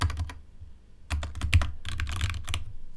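Rapid bursts of computer keyboard typing, close and crisp, come in clusters separated by a brief pause, with no voice over them.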